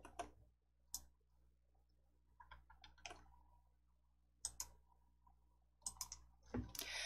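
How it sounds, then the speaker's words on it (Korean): Mouse clicks on a close button in a Korean word-processing program, a handful of crisp, close clicks spaced irregularly across a quiet room, some doubled, with no speech. "닫기 클릭."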